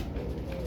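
Pigeons coo steadily, a low soft burbling that fills the short moment with no voices over it.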